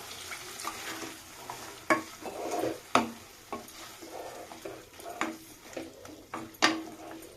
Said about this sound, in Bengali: এবার এর মধ্যে দিয়ে দেব কেটে রাখা আলুগুলো দিয়ে এটাকে ভালো করে নাড়িয়ে নেব কষাবো